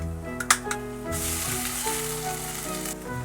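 Perilla oil noodles sizzle steadily in hot oil in a pan, a bright constant frying hiss with a few clicks of utensils at the start.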